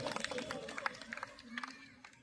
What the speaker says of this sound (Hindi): जोरदार तालियां इन बच्चों के हौसला अफजाई के लिए